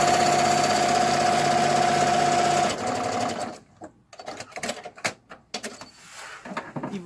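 A sewing machine backstitches a seam on a PUL snack bag, running in a loud continuous close whir for under three seconds before stopping, followed by scattered handling clatter and fabric rustle.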